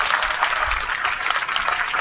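A crowd at a gathering claps steadily and loudly for visiting media guests, a dense, continuous burst of applause with no break.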